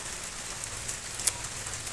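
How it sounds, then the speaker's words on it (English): Rain falls steadily outside after raining through the night, a soft continuous hiss with a few sharper drips, fairly faint and with no talking. "आजको दिन चाहिँ शीतल हुने भयो because it's raining रातभरि"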